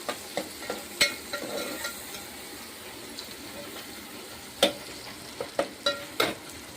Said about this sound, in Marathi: टोमॅटो टाकून खूप छान असं फ्राय केलेला आहे